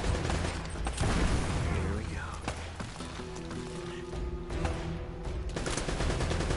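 Rapid gunfire and bursts from Uncharted: Drake's Fortune fill the scene, loud and dense shots layered under a man's excited Thai exclamations.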